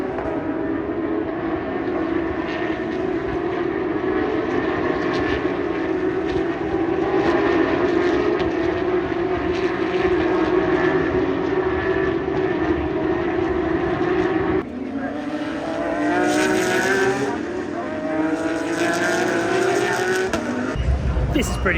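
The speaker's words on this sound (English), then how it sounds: "There are the GT3 Cup cars" Porsche GT3 Cup race cars at speed around Laguna Seca during Rennsport Reunion 7, a loud sustained engine roar that swells and shifts pitch as they pass, with a voice talking over it.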